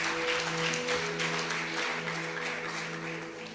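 A church congregation at a worship service applauds. The clapping is a soft, steady patter from a sizable crowd, blended with sustained organ or keyboard tones underneath, and it tapers slightly toward the end.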